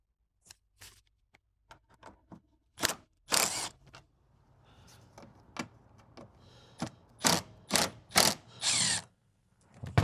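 Ratchet removing bolts on a BMW X5 F15 with an N55 engine during a water pump and thermostat job, with short clicking ratchet bursts and sharper loud ratcheting strokes in irregular clusters, close and without talk.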